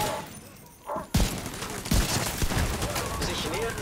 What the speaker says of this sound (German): Das Geschütz schmeiße ich hier hin. Der greift dann den an.